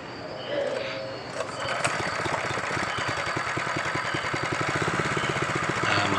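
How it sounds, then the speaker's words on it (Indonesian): A Honda GX160 small petrol engine runs steadily with a fast, even putter, close by and fairly loud, starting up after a brief moment of quieter noise. "mesin sudah hidup normal"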